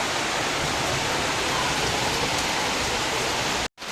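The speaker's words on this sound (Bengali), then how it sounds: "এই দেখো বাইরে প্রচণ্ড জোরে বৃষ্টি হচ্ছে" Heavy rain pouring down outdoors, a dense, loud, unbroken hiss that cuts off abruptly just before the end.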